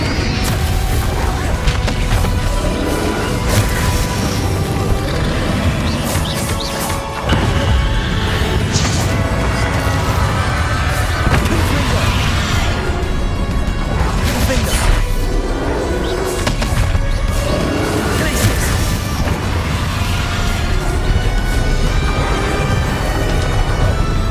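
Confringo fire spells in Hogwarts Legacy go off as repeated crashing, booming blasts with whooshes amid a constant loud battle mix, the impacts landing at irregular intervals across the fight.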